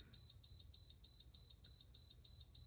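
Underground dog fence controller beeping steadily, eight evenly spaced shrill electronic tones in a regular rhythm, faint and alone in a quiet room.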